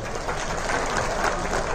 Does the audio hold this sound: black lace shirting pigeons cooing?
no